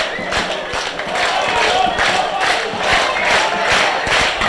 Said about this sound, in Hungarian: Taps is egyre jobban éleződik